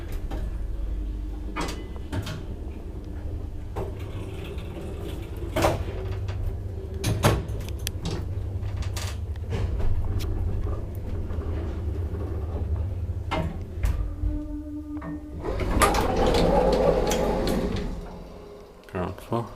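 1973 KMZ traction elevator running: a low mechanical hum carries on under repeated sharp clacks and thuds of doors and relays, with a louder rumbling rush near the end and a voice speaking over it.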